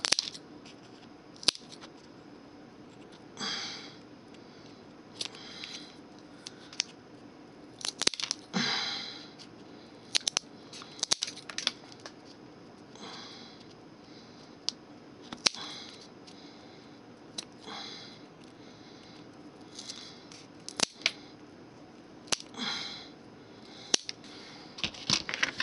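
Scissors snip through prickly plant material for a centerpiece, with scattered sharp clicks and short cutting crunches spaced irregularly over a quiet background, and no talking.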